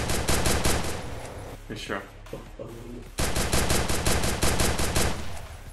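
Rapid automatic gunfire in Free Fire Max rattles loud and close in steady bursts, breaks off briefly while someone speaks, then resumes in a fast sustained volley.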